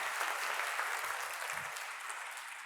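An audience in a packed hall applauds at the start of a festival talk. Dense, even clapping carries at a steady, moderate level through the whole stretch, with no voices over it.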